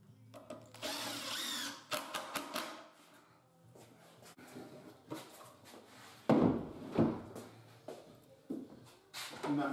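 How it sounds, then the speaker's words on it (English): A power drill or driver sends screws through a small MDF tab into the top of a kitchen wall cabinet during fitting, giving short whirring bursts among thumps and handling knocks at close range. "I'm just going to screw on a small tab of MDF through the top"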